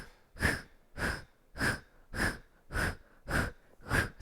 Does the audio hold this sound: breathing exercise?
yes